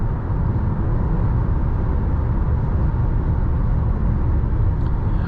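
A 2019 Nissan Rogue SL pulls under heavy throttle, its engine giving a steady, loud low drone mixed with road and cabin rumble. No one speaks over the continuous sound.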